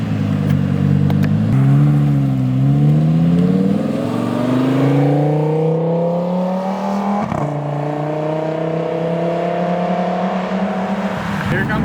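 An exotic car revs at a car show, its engine climbing through a long, rising pitch sweep, dipping, then climbing again. The sound is loud and close, with voices faintly underneath.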